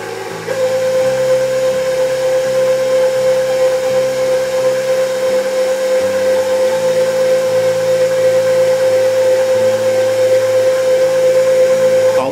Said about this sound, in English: And I'll start up the mixer.